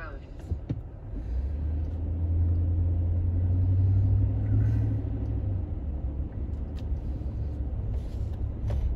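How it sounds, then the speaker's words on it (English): A car drives through East Atlanta streets near Stockbridge, heard from inside as a deep, continuous road rumble. The rumble swells for a few seconds in the middle, then settles to a steady hum. "We're gonna go for a ride just so you guys can get an idea of what it's like driving through here."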